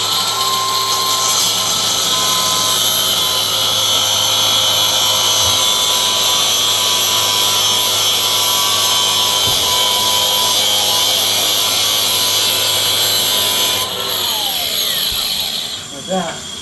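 A power tool cuts steadily just above bolts during a small weekend repair job, a loud continuous whining grind that holds for most of the stretch before winding down near the end.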